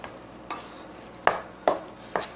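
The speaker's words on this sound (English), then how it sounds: "Make sure it's well blended with a spoon" A spoon works through a raw hamburger meat mixture in a bowl, giving a few soft, wet scraping strokes spaced about half a second apart, close and quiet, with no voices.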